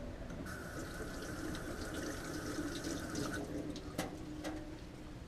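Tap water runs steadily into a sink while hands are rinsed during the cleaning of mullet, a continuous close splashing flow with a couple of brief sharper knocks near the end.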